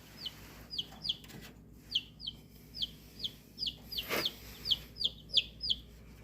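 Newly hatched chicks and chickens from a home incubator peep and cluck in a rapid series of short, bright calls, fairly close, with light background noise.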